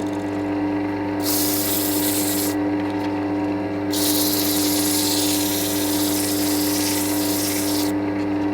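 Steady rasping sanding of a turned wooden sphere spinning on a lathe, layered over the continuous hum of the machine, with the abrasive hiss swelling and easing in long stretches and no talking.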